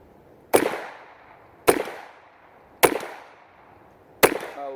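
A Ruger Mark II standard pistol with a 6-inch barrel fires CCI ammunition: four sharp, loud single shots spaced about a second apart, each with a short ringing decay, with no talk.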